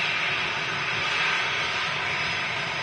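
A jet aircraft at Manchester Airport gives a steady, loud broadband engine roar with a hissing rush, continuous and unbroken throughout.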